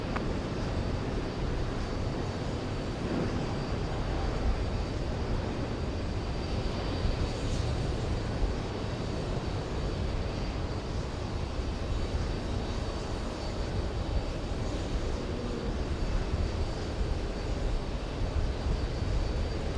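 An Airbus A321 jet takes off at JFK, a broad, steady engine rumble heard from a distance, moderately loud and unbroken throughout with no voices.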